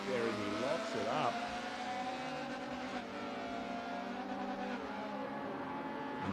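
A race car in a racing video game, its engine a steady, loud, high-pitched drone that wavers briefly early on while the brakes lock up, with the tone holding throughout.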